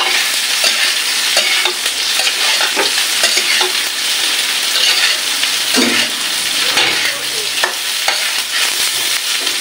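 Soybean chunks sizzle and crackle steadily in hot oil, a loud, continuous frying hiss with occasional stirring clicks.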